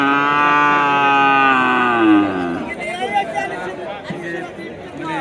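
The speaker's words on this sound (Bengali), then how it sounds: "বাংলাদেশের বৃহত্তর গরুর হাট হচ্ছিল এই গরুর হাট" A cow lets out a long, loud moo at a busy dairy cattle market in Ishwardi, Bangladesh, and the call fades into the hubbub of a crowd with people talking nearby.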